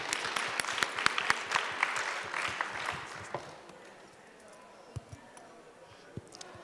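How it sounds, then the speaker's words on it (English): Applause from an audience welcoming honorees, a dense but moderate clatter of hand claps that thins out after about three seconds, leaving room tone with a few isolated claps and knocks. "So let's give them a round of applause and welcome them."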